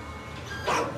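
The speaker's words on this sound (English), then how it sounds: "Yo, I'm about to get caught by this dog." A dog in the video game Road 96 gives a single short bark near the end, fairly close, over a steady low game ambience.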